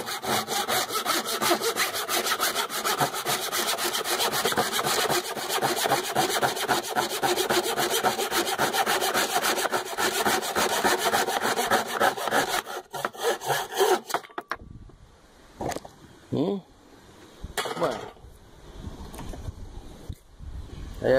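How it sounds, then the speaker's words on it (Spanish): Japanese pull saw cutting through wood, its steady rapid rasping strokes loud and close for about fourteen seconds, then stopping and giving way to a few scattered knocks and handling sounds. "nuestra sierra corta, ¿ven? Cuando tiro de ella, no cuando voy hacia adelante."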